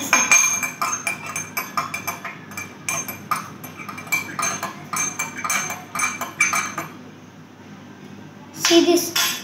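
A spoon stirs turmeric powder into water in a glass, making repeated bright clinks and scraping taps against the glass. The clinking comes in quick uneven bursts, close and fairly loud, with a short quiet stretch and a final rattle. Voices talk in the background.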